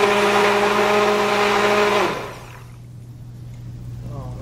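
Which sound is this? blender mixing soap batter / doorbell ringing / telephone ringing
blender mixing soap batter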